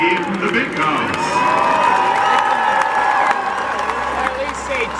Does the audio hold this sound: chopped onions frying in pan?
no